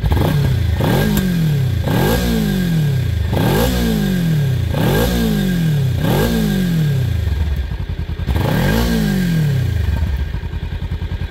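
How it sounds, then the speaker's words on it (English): A 2023 Kawasaki Ninja 300 engine revs repeatedly, about six loud throttle blips each rising then falling back to a rough idle, close and continuous. "Now let's rev it a bit."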